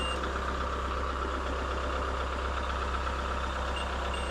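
A Kubota M62 tractor creeps forward very slowly with its backhoe removed, giving a steady, close diesel engine drone at low idle-like revs, constant in level throughout with no talk.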